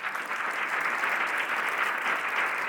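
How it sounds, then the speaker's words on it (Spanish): Audience applause at a live talk event, a steady, even wash of many hands clapping throughout at moderate distance. "Un aplauso, por favor."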